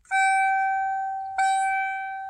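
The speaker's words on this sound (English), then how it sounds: "it turns on the headlight chime" A 1992 Mercury Topaz sounds its headlight warning chime: two clear electronic bell tones struck about a second apart, each ringing on and slowly fading, heard close with nothing else.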